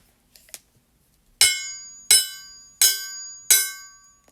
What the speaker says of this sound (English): The ringing of the hammer began again, but Palestine hardly heard it.